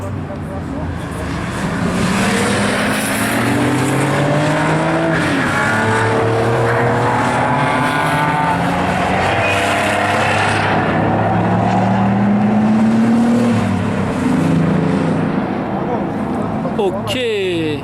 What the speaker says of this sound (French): il y a des voitures qui arrivent sur le circuit